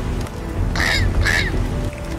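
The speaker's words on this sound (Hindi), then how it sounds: "तभी वहाँ पर कालू कौवा की रोने की आवाज़ आती है।" A cartoon crow crying out in two drawn, wavering caws amid rain and storm ambience in a forest, fairly close and loud.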